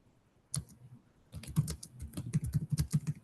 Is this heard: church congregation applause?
no